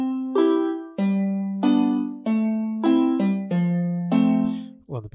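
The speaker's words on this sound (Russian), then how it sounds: "Следующий инструмент у нас гусли." Gusli, a Russian psaltery, from a Kontakt sample library: a slow plucked melody of about nine ringing notes, each decaying before the next, close and clear with no talking.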